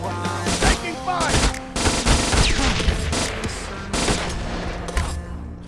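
Gunfire from the mobile shooter Modern Strike with a Ruger AR 556 rifle, loud bursts and rapid automatic shots over game music.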